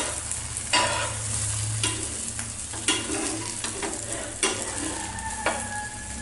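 Egg kalakki in a hot pan, folded and stirred with a spatula, giving a close, steady sizzle broken by several distinct scraping strokes.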